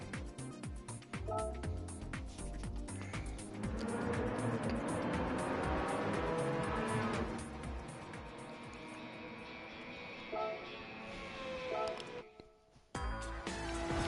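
Race cars on the Laguna Seca circuit in Gran Turismo 7, engines droning and rising in pitch with gear shifts, loud and sustained before fading near the end.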